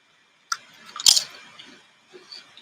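A tortilla chip loaded with ROTEL cheese dip is bitten, giving a few close, sharp crunches in quick succession followed by faint chewing, with no talking.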